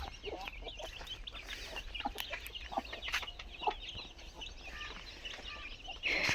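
Backyard chickens, including one aggressive hen, cluck and squawk in short scattered bursts, several birds calling close by and overlapping, with a sharper louder flurry near the end.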